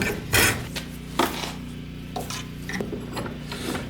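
Wood being rounded off along the edges of a handmade wooden mallet in a workshop: a few scraping, rasping strokes with sharp bursts, some louder than others, over a steady low hum.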